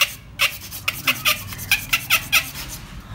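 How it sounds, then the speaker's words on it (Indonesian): Sandpaper rubs over a broken tent frame pole to smooth it, a series of short rasping strokes in a steady, even rhythm, close and moderately loud. "Jadi kita kasih amplas biar halus"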